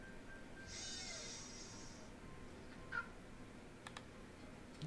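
A cat in a Nancy Drew video game gives one drawn-out, quiet meow, followed by a few soft clicks of a computer keyboard in an otherwise hushed room.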